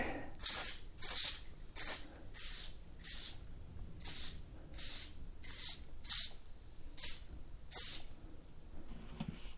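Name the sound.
foaming tire cleaner being sprayed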